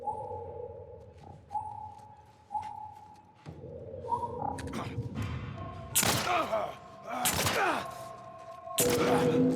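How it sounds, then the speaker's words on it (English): Gunfire in The Last of Us Part One video game: several loud, broadband bursts break in over the second half, layered over tonal game sound cues and ambient effects, with no talking. "I then shoot until I hear the enemy's death cue."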